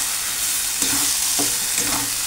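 Masala for egg dum biryani frying and being stirred in oil, a steady close sizzle with a few louder scraping stirs, no voices.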